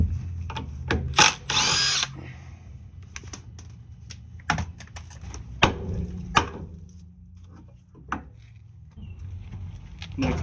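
A power tool works on the driver's-side tie rod of a 1988-1992 Toyota Corolla, giving short loud bursts among clicks, knocks and rattling in a close workshop space.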